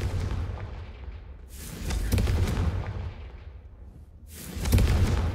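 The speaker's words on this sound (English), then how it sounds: "Confringo fires a explosive blast." Confringo explosive blast spell in the Hogwarts Legacy video game, heavy booming blasts with whooshing bursts, two or three strong hits spaced a couple of seconds apart, loud and close.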